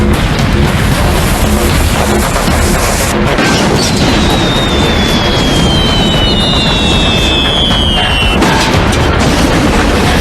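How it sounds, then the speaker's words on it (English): 55-gallon drums of the flammable solvent ethyl acetate explode in a chemical fire, producing a loud, sustained roaring rumble with booming bursts and a high whistling streak as debris flies through the air. "Each fireball represents a 55-gallon drum of the highly flammable solvent ethyl acetate as it explodes due to heat and pressure."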